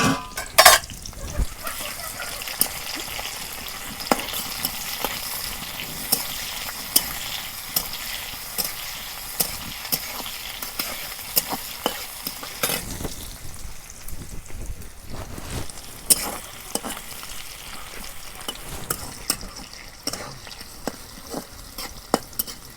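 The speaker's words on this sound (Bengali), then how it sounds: "এখন আমি পেঁয়াজ কুচি দিয়ে দিই।" Chopped onions sizzle in hot mustard oil in a village kitchen wok, a continuous crackling fry broken by repeated sharp scrapes and clacks of a stirring spoon against the pan.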